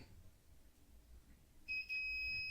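A multimeter continuity test on a Samsung curved 4K TV part, a faint room hush followed by a steady high-pitched electronic beep that starts abruptly and holds, with a tiny break.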